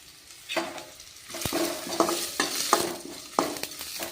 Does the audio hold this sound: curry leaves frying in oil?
yes